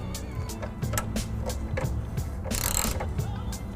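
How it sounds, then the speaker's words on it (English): A 1/2 inch socket and extension wound by hand into a rusted, corroded weld nut, giving a close series of rhythmic metallic ratcheting clicks and grinding scrapes with a harsher burst partway through. "I've got a 1/2 inch socket and extension, and I'm going to just wind that up into that weld nut"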